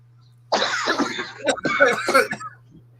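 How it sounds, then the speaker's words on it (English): Several people coughing and clearing their throats in a room during a casual Sunday hangout, with harsh, rough bursts overlapping over about two seconds on top of a steady low hum. "We are all coughing and coughing."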